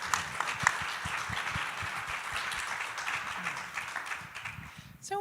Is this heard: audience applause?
yes